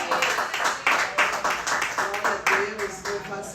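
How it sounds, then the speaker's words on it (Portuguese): Applause from a church congregation, a burst of clapping that swells and surges in waves, near and fairly loud, with a voice speaking over it. "Dê uma salva de palmas."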